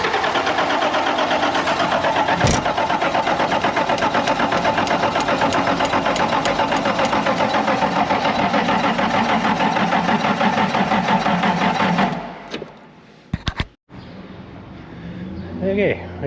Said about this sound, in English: Finally got the forklift running.